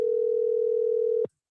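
A single steady telephone tone sounds as a caller is dialed for a radio call-in program, one sustained beep that ends abruptly, alone with no talk.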